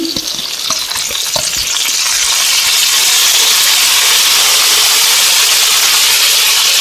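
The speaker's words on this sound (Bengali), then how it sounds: "আলুটা নুন হলুদ দিয়ে ভেজে নিয়েছি, এবার পেঁয়াজ বাটা দিচ্ছি" Potatoes fried with salt and turmeric in mustard oil with whole garam masala hiss and sputter as onion paste goes in. The sizzle swells louder after a couple of seconds and holds a dense, close roar, with no voices.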